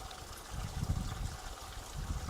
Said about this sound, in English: I'm just topping the pond up.